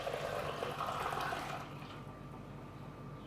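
Whisked gum arabic solution pours steadily from a container into a pan, a close, continuous liquid gush that tapers off toward the end.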